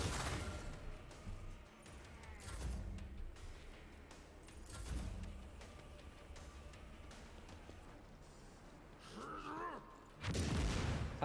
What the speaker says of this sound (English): I hate stun grenades.